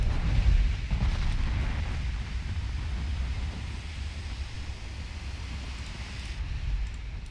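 A torpedo strikes a heavy cruiser in the naval warfare game Ultimate Admiral Dreadnoughts, producing a loud, deep rumbling blast that stays heavy and continuous for several seconds before slowly easing off, with no talking.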